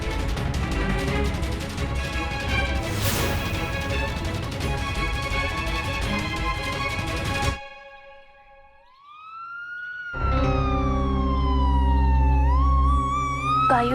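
A police car siren wails loudly and steadily, then drops away into near silence before rising again in a sweeping electronic tone, with no talk over it.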